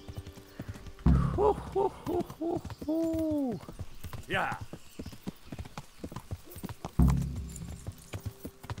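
Horse hooves clip-clopping in Kingdom Come Deliverance, a close, rhythmic series of hoof steps starting and stopping, with a horse whinny in the middle and a brief spoken word.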